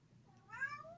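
A cat gives a single soft, drawn-out meow, faint and rising then falling, with no other sounds around it.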